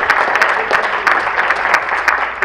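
An audience at a Hindi comic poetry recital claps for a poet, a lively burst of applause with sharp individual claps standing out, filling the whole moment without voices.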